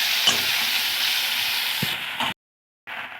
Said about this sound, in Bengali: তো পেঁয়াজ আর রসুনটাকে ভালো করে ভেজে নিয়েছি